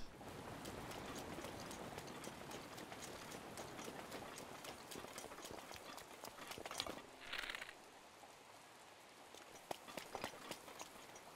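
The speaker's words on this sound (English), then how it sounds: "Oh, it's raining." Steady rainfall in the video game The Legend of Zelda: Breath of the Wild hisses throughout, with occasional sharper taps and a brief muffled thump partway through; no one speaks.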